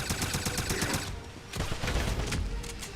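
Rapid bursts of gunfire in the World War II shooter Wolfenstein, a fast repeating volley up front that pauses briefly and then resumes as a denser, continuous barrage, loud and close.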